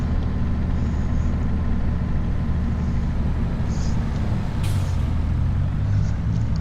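Volvo truck in a farming video game pulling out under load, a steady low engine rumble with a brief hiss of air brakes released partway through, loud and continuous with no talk.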